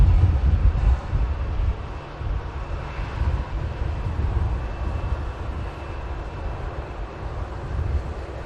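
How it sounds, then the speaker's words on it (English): An Atlas Air Boeing 747 landing at Manchester Airport in strong crosswind, a deep, broad engine roar heard at a distance, buffeted by heavy wind noise on the microphone throughout. "And the 747 is landing today at Manchester Airport"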